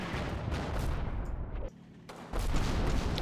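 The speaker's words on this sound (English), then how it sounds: "The mortar rounds are continuing to come down." Mortar rounds land in Combat Mission: Battle for Normandy on Utah Beach, producing a rolling wall of distant artillery rumble and crackling impacts that briefly drops away before surging back.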